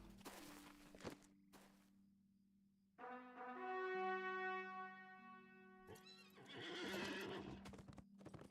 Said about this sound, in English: Thank goodness for war steed run speed